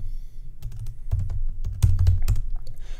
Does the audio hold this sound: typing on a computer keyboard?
yes